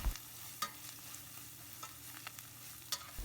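Onion cooks with ginger garlic paste in a pan for a restaurant-style veg pulao, giving a soft, steady sizzle with occasional sharp spatula clicks and stirring scrapes, and no voices.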